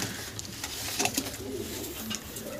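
A recovering pet pigeon coos indoors in low, soft rolling phrases, close to the microphone, amid light shuffling and scattered faint clicks, with no talk over it.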